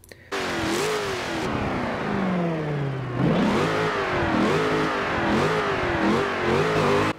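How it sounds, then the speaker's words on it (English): A car engine in Forza 7 revs repeatedly, climbing and falling in pitch with a whine riding over the exhaust note, loud and close with no talk. "So this car sounds good, just, revving, but listen to this whine."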